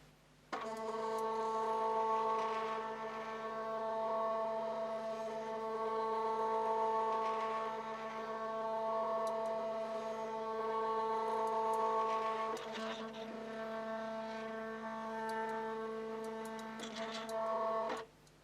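A steady whining hum of a stepper motor driving the longitudinal feed of an NGF-110 milling machine, with harmonic tones that swell and dip in slow cycles, close and unbroken for most of the stretch.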